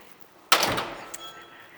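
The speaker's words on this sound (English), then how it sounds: "If I'm in privacy mode and I close this door" A concealed hinge swing door swung shut, landing in a single sharp thunk followed by a short fading rumble in a quiet room.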